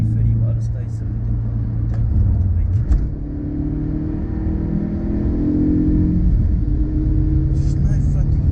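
An Audi A4 B6 quattro running on LPG: a steady, deep engine rumble that rises briefly as the engine is revved, then settles, with someone talking over it throughout.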